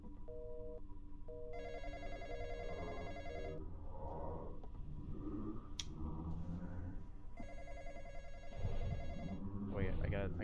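An old-style telephone bell rings in a Roblox game, two long bursts separated by a pause, heard over a busy, noisy game background with other effects and brief sounds.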